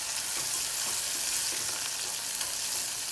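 Turkey berries (sundakkai) sautéing in a pan give off a steady, dense frying sizzle with faint stirring scrapes, close and continuous throughout with no voices.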